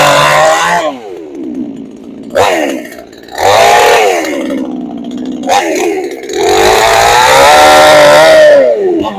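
A Pinkway 63cc gas engine chainsaw runs loud and close, its engine revving up and dropping back to idle several times in uneven surges, ending in a long, sustained high rev.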